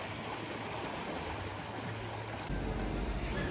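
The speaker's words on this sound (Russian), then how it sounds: "посмотрите, какое сегодня красивое море. Вода просто прозрачная." Sea surf washes steadily onto a sandy beach at Odessa's Golden Shore, a continuous soft roar of waves with wind noise, fairly quiet and growing a little louder near the end, no voices.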